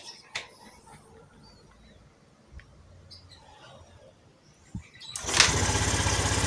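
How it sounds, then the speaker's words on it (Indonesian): A Honda Scoopy-FI scooter engine, one that had been cutting out while riding, kick-started and catching: a quiet stretch with a few knocks, then a sudden loud, steady idle roar for the final second or so. "sekarang kita coba selah"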